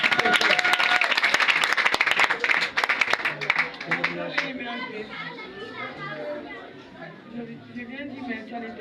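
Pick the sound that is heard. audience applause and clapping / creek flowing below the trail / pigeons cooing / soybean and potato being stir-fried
audience applause and clapping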